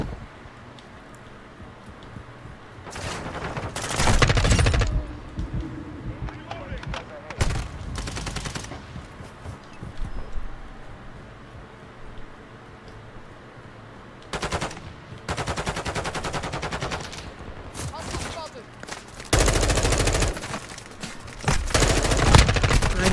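Bursts of automatic gunfire in Modern Warfare 2 during a Halloween multiplayer match, loud rattling volleys separated by quieter stretches, with a player occasionally talking in between.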